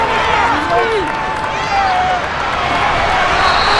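Stadium crowd in Madden NFL 23 during a Chargers versus Broncos game, a steady loud roar of cheering with rising whistles and shouts that swells near a big third down.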